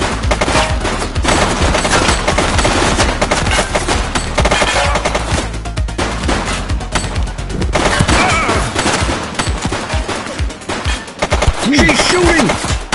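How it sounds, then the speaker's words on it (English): Sustained heavy video game gunfire in a police shootout, loud overlapping automatic bursts and single shots rattling for over ten seconds, with scattered voices faintly underneath. "She's shooting!"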